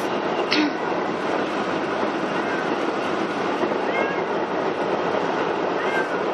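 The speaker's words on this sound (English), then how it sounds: "All that meowing's not going to do anything." A steady loud rumble of a moving train fills the clip, with faint short meows rising over it a few times.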